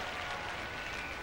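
Impatient arena crowd clapping at a world gymnastics championship apparatus final, a dense, continuous wash of applause heard from within the audience, steady and fairly loud.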